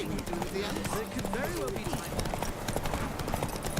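A horse gallops in a video game, rapid rhythmic hoof clip-clops running steadily throughout while someone talks over them.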